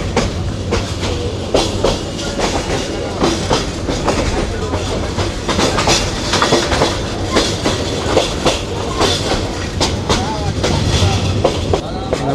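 Mohonganj Express rolling along the rails from Mymensingh toward Mohonganj, heard from inside with a steady loud rumble and repeated clickety-clack of wheels over joints throughout.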